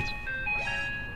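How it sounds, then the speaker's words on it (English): An ice cream truck plays its jingle, a bright electronic tune of sustained, wavering tones, heard loud and alone over a faint low background. "Ice cream truck."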